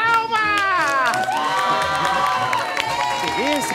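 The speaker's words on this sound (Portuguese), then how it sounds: "Palmas!" Studio audience at a live TV variety show with a talent competition erupts in loud, continuous cheering, whooping and clapping, a sustained roar of many voices filling the room throughout.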